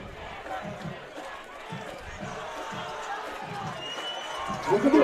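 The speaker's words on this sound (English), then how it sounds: "Crowd making noise" A high school football crowd at South Lafourche versus Thibodaux makes a steady, distant roar with rhythmic bursts of chanting and clapping, swelling louder near the end while a commentator talks over it.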